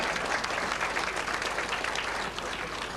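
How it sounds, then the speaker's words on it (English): Steady, dense applause from a banquet audience at a sports hall of fame dinner fills the room at a constant loud level, with no voices standing out. "If you could applaud for him"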